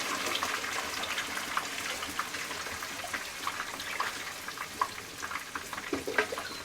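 A paste of onion, garlic and ginger fries in hot oil, giving a soft, steady sizzle with scattered crackling pops, fairly quiet and close, with no talking.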